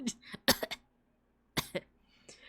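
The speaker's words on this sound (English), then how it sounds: "Insert a random cough every now and then." A person coughs in short, sharp bursts: a quick cluster of coughs near the start, then another pair after a pause, with a faint breath or throat sound at the end, close and fairly quiet.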